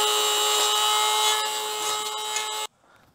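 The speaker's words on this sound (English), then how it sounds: "Now we're gonna have to sand and grind and see how that works." Steady high-pitched whine of a power tool sanding and grinding a handlebar mount hole for a Honda Grom, loud and continuous for nearly three seconds before cutting off abruptly.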